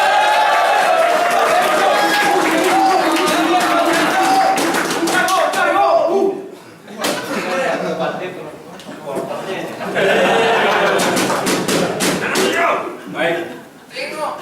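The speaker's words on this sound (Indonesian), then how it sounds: "Sebelumnya kita berikan aplaus." Audience in a classroom academic debate among police college students breaks into applause, a dense sustained clapping that fades out midway and then returns loudly for a second burst, with voices mixed in.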